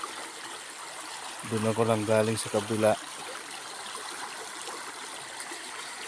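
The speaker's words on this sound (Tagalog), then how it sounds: "Dumaan naman tayo dito sa maagas na tubig." Water flowing steadily through a rocky stream, a constant close rushing and trickling that runs throughout, with someone talking briefly over it partway through.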